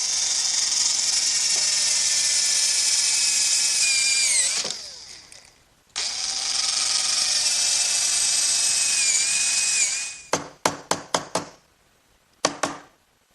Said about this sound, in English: So I'll do that by using a brad point bit and a chisel to remove the rest of the material.